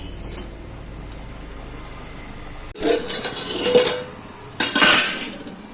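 A metal lid is set onto a pot of fish curry, with close clanks and rattling scrapes of cookware in a few bursts, the last being the loudest clatter.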